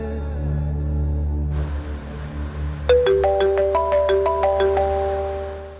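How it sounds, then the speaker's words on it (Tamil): A mobile phone rings for an incoming call: after a low background hum, a bright electronic ringtone melody starts, with repeated rising tones in a quick, regular pattern, loud and close. "சஞ்சய் ஃபோன் பண்றான்."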